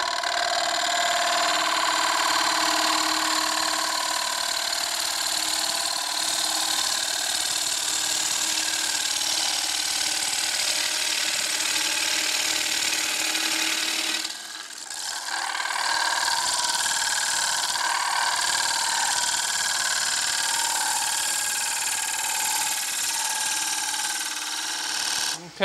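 Wood lathe spinning while a bowl gouge cuts into a turning bowl, a loud continuous whirring hum with a steady scraping hiss that dips briefly midway and then resumes.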